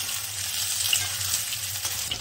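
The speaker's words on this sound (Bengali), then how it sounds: "একটু আলু লাল লাল হয়ে যাচ্ছে, তো পেঁয়াজটা ভাজছি" Onion and potato frying in a pan give a steady, close sizzle with a dense hiss that holds evenly throughout, with no voices over it.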